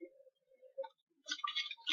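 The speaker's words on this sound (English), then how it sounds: "As you see, I'm shuffling up the cards." A deck of playing cards being shuffled by hand: a few soft, sparse clicks, then a brief quiet riffling burst of crisp flutter near the end, close and faint, with no talking.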